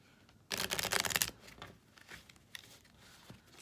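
Oracle cards are shuffled in one dense, close riffling burst lasting under a second, followed by a few faint card taps and rustles.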